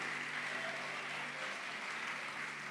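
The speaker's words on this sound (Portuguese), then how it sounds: "Você consegue aplaudir ao Senhor, meu irmão?" A church congregation gives a steady, moderate round of applause, a dense even wash of clapping that fills the room without a break and carries no speech.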